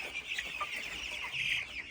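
Master Grey chickens cluck softly close by, a few overlapping murmuring calls rising and falling over a couple of seconds.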